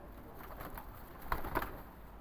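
Soft cooing of Teddy Rampuri pigeons in Lahore, a couple of low throaty calls over a steady background hiss, fairly faint and close.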